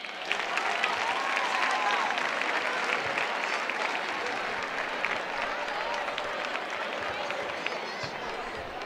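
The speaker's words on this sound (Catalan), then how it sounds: "Un fort aplaudiment!" Crowd applause at the Crida of the 2024 Falles in Tavernes, sustained clapping from a large outdoor gathering with scattered cheers and voices, steady and fairly loud throughout.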